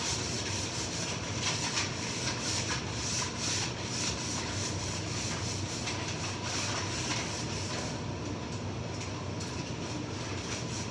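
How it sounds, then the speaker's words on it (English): A steady, close rasping scrub continues as sandpaper works across the top of a coated wooden end table, an even gritty rubbing with no pauses. "you still want to sand it at least a little bit. We'll do the top."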